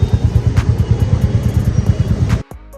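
Rented motorcycle in Srinagar idling close by with a loud, rhythmic thumping pulse that runs evenly before abruptly cutting off near the end, leaving quiet background.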